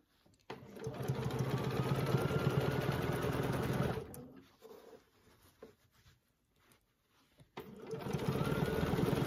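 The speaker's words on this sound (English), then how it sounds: "now I'm going to stitch that little square here" A sewing machine quilts a gridded orange-peel design into a quilt. It runs steadily for a few seconds, pauses briefly with faint handling sounds, then starts stitching again close up.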